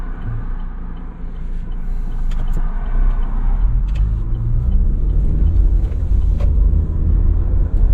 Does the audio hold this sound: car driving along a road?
yes